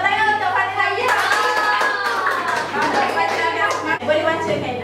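Classroom clapping for a student during a micro-teaching lesson, with children's voices and talking mixed over the claps throughout, fairly loud and close.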